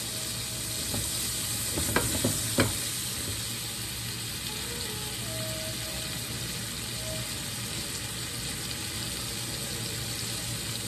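Lobster tails sizzle in a very hot skillet on a BBQ setup, making a steady, quiet frying hiss over a constant background hum, with a couple of brief sharp clicks near the start.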